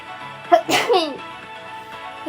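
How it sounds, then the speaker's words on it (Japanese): A single loud sneeze with a quick breathy build-up, close to the listener, followed by a brief fading vocal sound. "待って、くしゃみ出そう。"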